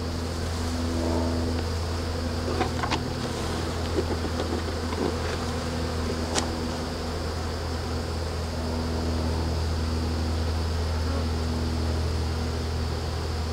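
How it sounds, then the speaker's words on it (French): A swarm of honey bees buzzing in a steady, dense drone that holds evenly throughout, with a few faint clicks and knocks but no voices. "Une tasse représente environ 300 abeilles."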